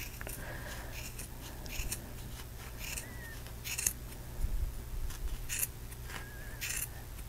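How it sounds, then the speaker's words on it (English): Scissors snip through the yarn loops of a pom pom as it is made on a Zutter Bow-it-All V3.0, giving soft, quiet, irregular cuts over a low steady hum. "you're just going to be cutting those loops open."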